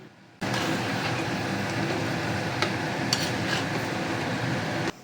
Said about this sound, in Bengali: এবার ম্যারিনেট করা মাংসটা ঢেলে দেবো